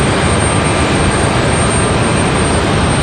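Jet airliner at Raleigh Durham International Airport, a loud, steady broadband engine roar filling the whole stretch without letup, close by.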